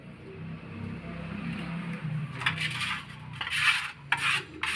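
Two-part epoxy chemicals being mixed for tile grout filling: soft scraping and stirring at close range, quiet at first, then sharper bursts of scraping toward the end.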